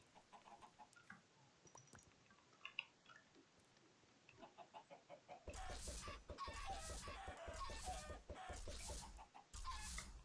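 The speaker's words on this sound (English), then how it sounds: "Now I just need to grab some chickens." Minecraft chickens in a modded game, quiet scattered clucks at first, then louder, rapid bursts of clucking and flapping fill the second half, close and busy.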